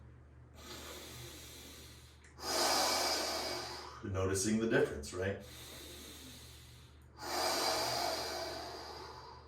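Slow, deep breaths during a yin yoga side bend, with long airy inhales and exhales near the microphone. Each breath swells and fades in a calm rhythm, and a short spoken remark breaks in between.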